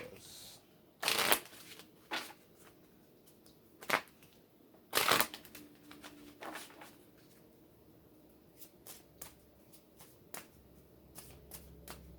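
Tarot cards are shuffled in quick, crisp riffling bursts, several sharp ones spaced over a quiet room, followed by lighter scattered card handling.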